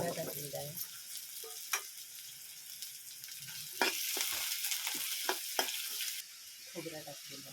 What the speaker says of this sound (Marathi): कांदा मस्तपैकी फ्राय झाला